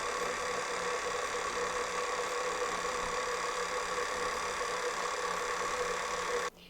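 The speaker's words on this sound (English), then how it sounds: "give it one last mix, but we're going to do it on low speed" A stand mixer works cookie dough on low speed with a steady, droning motor hum that holds constant for several seconds and then cuts off abruptly near the end.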